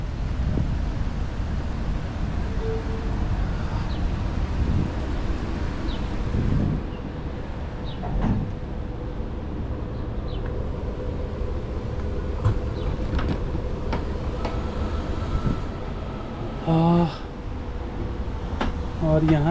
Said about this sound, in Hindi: ट्रैम आ गई है।